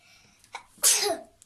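A single sharp sneeze bursts out after a short inhaled lead-in, close and clear against a quiet room.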